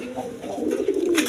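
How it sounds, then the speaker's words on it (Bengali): A pair of Afsani girijal high-flying pigeons coo close by in a short, low, rolling burst with faint background noise. "এক পেয়ার হাই ফ্লাইং আপনার আফসানি গিরিজাল কবুতর আছে"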